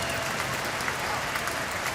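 A baseball crowd claps steadily for a departing right-handed pitcher after six and two-thirds innings, a dense roar of applause filling the ballpark at high level with no letup.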